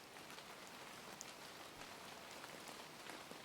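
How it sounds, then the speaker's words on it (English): Steady rain falls without pause on a surface, a dense even patter with scattered individual drops, constant in loudness and heard alone. "The rain continued exactly as before."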